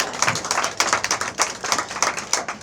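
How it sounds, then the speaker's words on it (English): Audience at a Cannes Lions 2024 session clapping, a short burst of scattered, moderately close hand claps with uneven rhythm and no speech over it. "Let's start out with a round of applause."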